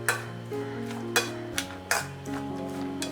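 Chopped raw mango and onion tossed and stirred in a bowl, soft scraping with a few sharp clinks against the bowl, close and faint over background music.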